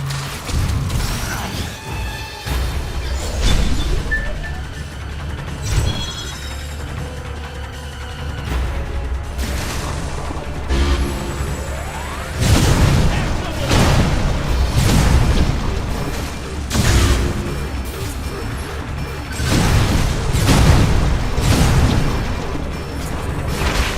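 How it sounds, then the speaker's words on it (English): Missiles fired in the video game Metroid: Other M burst in repeated heavy booms, several blasts spaced through a steady mechanical rumble and game score. "Samus, I'm authorizing missile use!"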